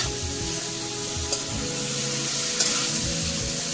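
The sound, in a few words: duck meat frying and being stirred in a pan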